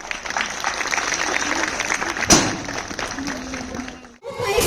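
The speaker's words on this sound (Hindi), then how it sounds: "तालियां बजाते रहे।" An audience at a school Teacher's Day celebration claps in a dense, sustained burst that fades toward the end, with a sharp thump partway through and a voice coming in over it.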